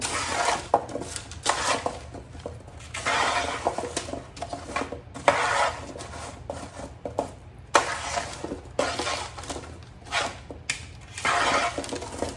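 Salted vegetables for roasting being tossed in a pan, with irregular bursts of rattling, scraping and clinking close by, separated by short pauses.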